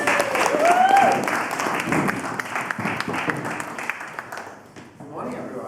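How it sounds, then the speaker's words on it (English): Dense applause from an audience at a business networking event, loud at first and then thinning into scattered claps, with voices and cheering mixed in. "So give him a big round of applause."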